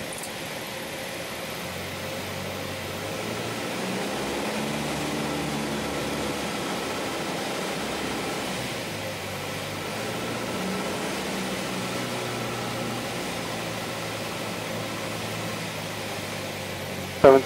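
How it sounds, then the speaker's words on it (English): Piper Warrior light aircraft engine idling on the ground during an idle power run, a steady low droning rumble with airy hiss, even and moderately quiet throughout with no talk. "it's only an idle power ground run"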